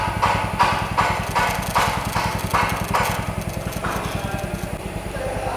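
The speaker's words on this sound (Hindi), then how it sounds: "अभी बाइक स्टार्ट कर दी है।" A Royal Enfield Classic 350 motorcycle idles close by after starting, at a service workshop for its first service, with a steady, even thumping beat that runs without a break.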